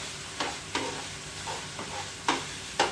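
Ground meat frying in a pan, a soft steady sizzle broken by several scraping stirs of a utensil against the pan, close and moderately quiet with no talking.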